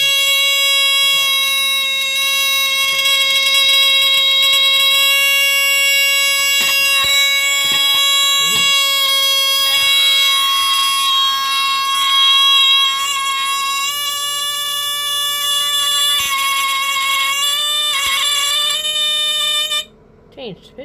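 A Detexall fire alarm sounding after a hair dryer test, a loud continuous electronic tone with steady harmonic buzzing that holds for about twenty seconds before cutting off abruptly.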